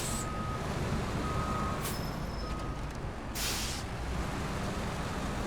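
Heavy truck in the video game SnowRunner reverses and turns around with a loud low engine rumble, periodic reversing beeps and sharp hissing bursts of air brakes.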